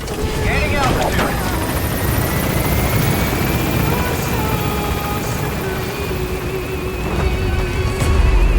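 A helicopter lifts off in the video game Metal Gear Solid V, its rotor thrumming loud and steady with a whining engine tone that stays close throughout.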